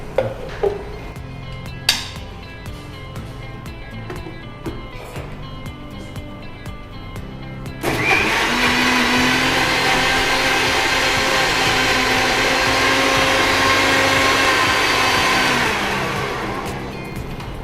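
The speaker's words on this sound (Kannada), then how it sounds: "ಇದನ್ನೆಷ್ಟನ್ನು ಈಗ ಗ್ರೈಂಡ್ ಮಾಡ್ಕೊಳ್ಬೇಕಲ್ಲ." A mixer grinder blends mint lime juice: quiet room sounds with a few small knocks, then the motor starts with a sudden loud, steady whirring roar that runs for about eight seconds before easing off.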